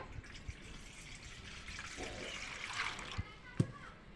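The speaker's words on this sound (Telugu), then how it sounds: "ఒక బేషన్లా నీళ్ళు పోసుకోవాలి" Water splashes and trickles into a basin at low level, with a few soft knocks and clinks near the end, while preparing brinjal.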